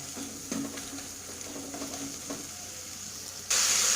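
Spice paste for a hilsa fish head and vegetable curry fries gently over a lowered gas flame, a faint soft sizzle with light stirring scrapes, then a louder hiss takes over near the end.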